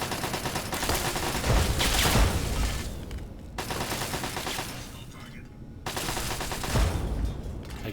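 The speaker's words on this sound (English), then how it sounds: "I can hear what sounded like a sentry attacking a turret." In a Fallout game, an army sentry bot fires on a turret in sustained bursts of rapid gunfire, three long volleys separated by brief pauses, loud and close.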